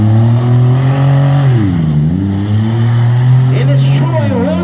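Race cars at Daugherty Speedway accelerate off the green flag start, their engines making a loud, droning roar that dips and climbs in pitch as they rev, with a voice talking over the noise.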